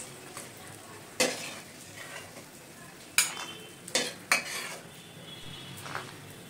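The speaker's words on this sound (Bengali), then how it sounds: "প্রায় 50 গ্রামের মতন বড়ি ভেজে নিচ্ছি।" Lentil bori dumplings fry in a pan with a steady low sizzle, broken by several sharp scraping and clinking strokes of a spatula stirring against the metal.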